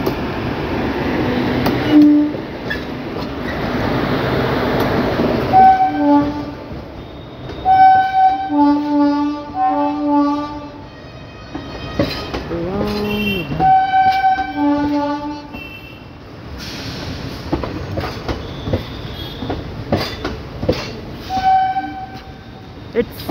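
The Bareilly City–Pilibhit passenger train, hauled by a diesel locomotive, rolls past with repeated loud horn blasts in short bursts over steady wheel and engine rumble, close by.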